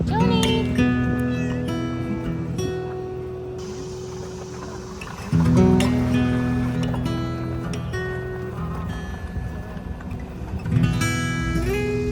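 A cat meows several times during a trip, the calls mixed with people talking and a bed of music.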